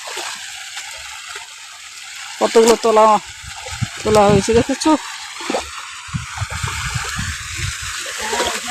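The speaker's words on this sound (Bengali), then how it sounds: "জলের বেগটা গতি হচ্ছে" Water flows steadily and splashes into a paddy field, a constant rushing wash that stays under bursts of nearby conversation.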